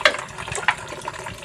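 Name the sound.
water being poured in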